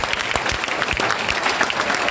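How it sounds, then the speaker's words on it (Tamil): Dense, sustained audience applause at a Namma Ooru Namma Taste food competition awards, cheering a prize winner; many hands clap steadily and loudly throughout with no gaps. "மிஸ்டர் சத்யமூர்த்திக்காக பெரிய கைத்தட்டல் கொடுத்துடலாம்."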